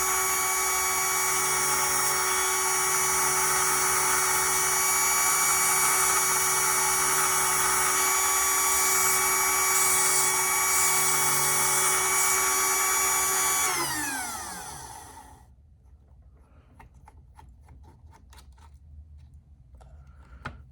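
A high-pitched power tool sanding the inside of a wheel with 80-grit abrasive gives a loud steady whine that winds down and cuts off, followed by quiet scattered ticks and handling noises.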